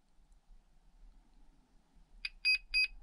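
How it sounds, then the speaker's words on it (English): Low voltage alarm on an Orlandoo Hunter D4L radio system in a 1/32 Toyota Tundra RC truck, a quiet lull followed by three short, sharp electronic beeps in quick succession, close and clear. "quite nice low voltage alarm, so you don't have to check the battery voltage all the time"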